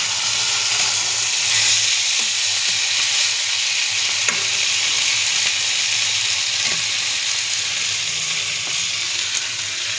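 Chopped banana flower cooks in a pan after a little water is poured in, giving a steady, close hissing sizzle with a few faint clicks of utensils, without speech.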